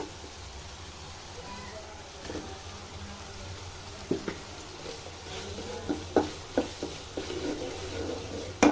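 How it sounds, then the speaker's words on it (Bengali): Tomato with salt sautés in a pan with a soft, low sizzle, while spoon stirs and scrapes grow more frequent and sharper toward the end. "এখানে আমি লবণ অ্যাড করছি তারপর টমেটো অ্যাড করবো একটু কষে আসার জন্য"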